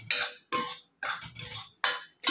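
Ground moong dal flour being stirred into a mixture in a pan for pasi paruppu halwa, with five or six scraping, rasping strokes in a steady rhythm, close and fairly loud, with short pauses between them.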